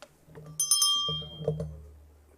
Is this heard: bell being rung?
yes